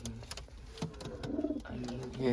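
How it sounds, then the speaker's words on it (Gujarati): Pigeons in a loft, soft repeated cooing at close range, faint and low, with light rustling and the sound of birds moving about nearby. "બધાએ કબૂતર નીકળી ગયા"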